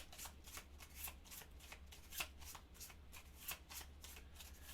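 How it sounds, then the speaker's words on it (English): Cards for the board game Tiny Epic Dungeons are shuffled in a quiet room, with repeated quick riffling bursts and crisp snaps that carry on steadily for several seconds and no voices. "And this time we need to shuffle."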